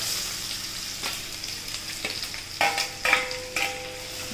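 Kantola (spiny gourd) dropped into hot oil crackles and sizzles steadily up close, with sharp metallic clinks and a ringing utensil knock partway through, and no one speaking.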